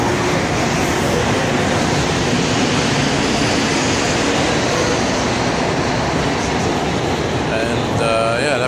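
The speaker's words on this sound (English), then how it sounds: "That train is the last one of the night on that line." The last metro train of the night rumbles past at Lionel-Groulx station in a continuous, loud wash of rolling noise, with faint rail squeals near the end.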